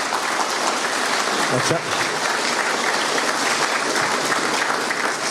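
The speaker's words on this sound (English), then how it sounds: "Give them a big round of applause." An audience applauds at the 75th anniversary event of an accordion band, with steady, dense clapping from a hall crowd throughout and a brief spoken word.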